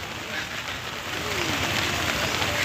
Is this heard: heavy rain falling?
yes